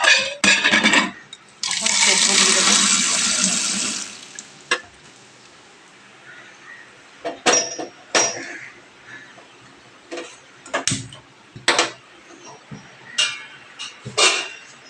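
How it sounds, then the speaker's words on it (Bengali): Dal being stirred in a pan during home cooking, with scattered metallic clinks and scrapes of a utensil against the pot, a few close taps and knocks over a quiet kitchen background, after a louder burst of sizzling or running noise near the start. "এদিকে আমি ডালটা ভালো করে নাড়াচাড়া করি"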